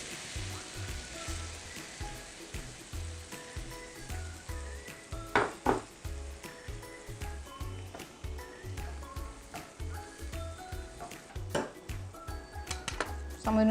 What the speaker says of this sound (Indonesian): Dan kita masak sampai wortelnya lembut.